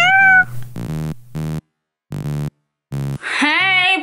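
A pet cat meows several times up close, a series of short harmonic calls separated by brief pauses, ending in a longer drawn-out meow with no talking over it.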